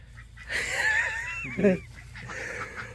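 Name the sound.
ducks calling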